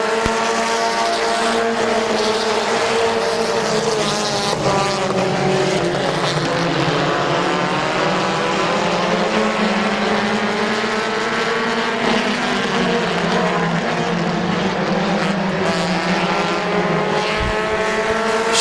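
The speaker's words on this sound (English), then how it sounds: "as the 27 of Van Meter scoots up through the middle" Race cars roar continuously around a dirt oval at Midvale Speedway, a loud, sustained field of engines with shifting revving tones as cars jostle for position, with no voices over the engine noise.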